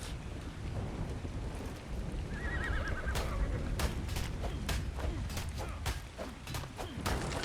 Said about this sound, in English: That wasn't the same horse as before.